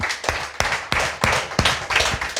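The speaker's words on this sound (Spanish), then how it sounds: "Denle un fuerte aplauso a nuestro Rey" A church congregation claps in a loose rhythm, roughly one sharp collective clap every third of a second, close and fairly loud, with no talking over it.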